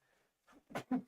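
A single sharp sneeze from a person at a football watch party, a brief two-part burst that is close and fairly loud after near silence.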